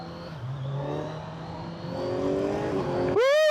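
A 2025 Kawasaki Z900 SE big bike roars under hard acceleration, its engine note climbing steadily and loud up close before a sharp rev flare and gear change at the end.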